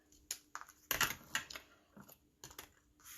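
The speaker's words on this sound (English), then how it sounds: "Now I'm going to trim the top of this one." Trimming the top edge of a handmade Christmas card: a quick run of crisp, close clicks and snips, some sharper than others, irregularly spaced with short quiet gaps in a quiet room.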